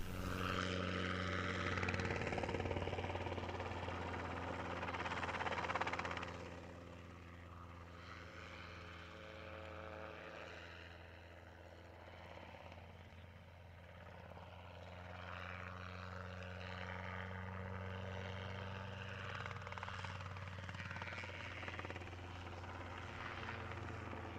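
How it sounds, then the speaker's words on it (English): Robinson R-22 training helicopter from a flight school flying at the Batajnica air show, a steady droning rotor and engine hum with a low pulsing tone that stays fairly distant and even throughout, with no voices. "This R-22 is operated by the flight school Helimaster from Belgrade."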